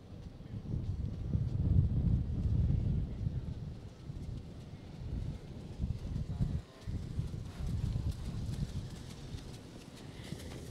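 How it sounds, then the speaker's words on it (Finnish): A trotting horse's hooves sound at a harness race at the Vermo track. The hoof beats are muffled and run steadily under heavy, rumbling wind noise with some rustling, and there are no clear voices. "Täältä saapuu eteen esittäytymään hieno Heppa Luraus ja Teemu Okkoliin"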